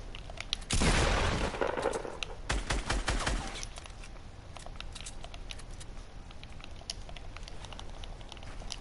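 Gunfire in a video game, a loud burst of rapid automatic shots followed by a cluster of sharp single cracks, then quieter scattered pops and background game noise.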